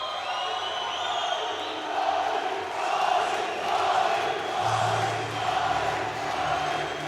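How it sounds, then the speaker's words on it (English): A large arena crowd at an MMA cage event cheers for the champion, a sustained roar with whoops and swells that rises and falls, heard under a commentator's voice. "It's a massive, massive cheer for the champion"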